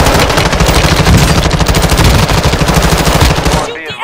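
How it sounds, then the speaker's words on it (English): Sustained rapid automatic gunfire in Call of Duty Modern Warfare II DMZ, a loud dense burst of shots that cuts off abruptly near the end. "You are taking effective fire"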